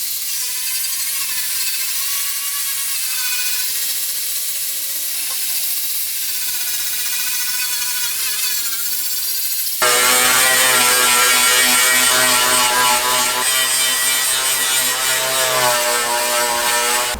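Power sanding of rust on a Toyota Supra metal body panel, a loud continuous whirring grind with a shifting pitch that abruptly grows harsher and louder partway through, with no talk.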